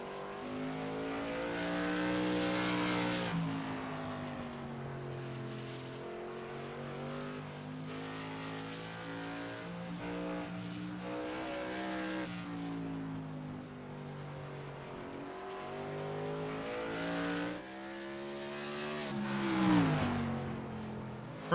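A TRS Tour modified race car lapping Concord Speedway, its engine a sustained droning roar that rises and falls through the corners, swelling nearer and louder toward the end.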